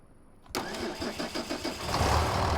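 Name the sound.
John Deere 4440 tractor engine starting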